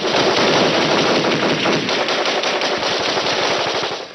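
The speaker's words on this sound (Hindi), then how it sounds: "आतंकवादी क्लेस्निकोव मशीन गन से उनकी तरफ ताबड़तोड़ फायरिंग ओपन कर देते हैं" A Kalashnikov machine gun fires a long, unbroken automatic burst at an ambush scene, the rapid cracks loud and dense throughout, with no voices.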